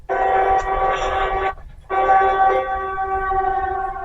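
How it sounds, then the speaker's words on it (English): A loud, droning siren-like wail of the Siren Head creature blares with layered harmonic tones, cuts out briefly, then resumes and holds steady, eerie and mechanical, no voices. "That's the Siren Head sound."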